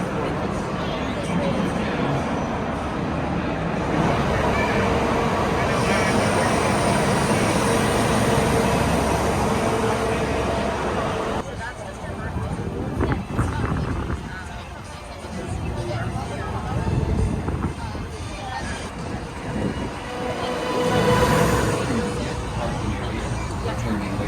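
Disneyland parking lot tram riding along, a steady rumble of wheels and motor under constant crowd chatter and babble from passengers, continuous throughout with a quieter stretch partway through.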